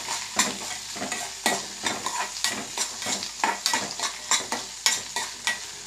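Watermelon, pumpkin and chironji seeds frying in a pan are stirred in quick, regular scrapes over a continuous sizzle, each stroke landing crisp and close.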